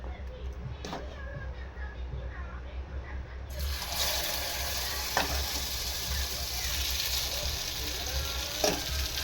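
Ragi flour dosa batter sizzles on a hot pan, a steady crackling hiss that swells louder midway as more batter goes on, with a couple of sharp clinks and someone talking over it.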